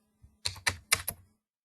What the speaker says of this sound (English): 1000A is what I'm typing on my keyboard.